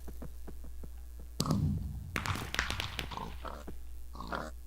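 Pigs oink in the Block Hunt Minecraft minigame, several short snorting grunts over a string of soft rhythmic footstep taps, with a louder burst of game noise in the middle.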